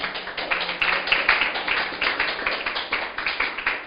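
A church congregation claps together in a steady, fairly loud rhythm, with overlapping hand claps repeating evenly throughout and no talking over them.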